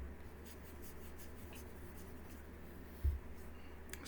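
A pen writes on paper in a series of soft, quick scratching strokes, close and quiet, with a brief knock near the end and no talking.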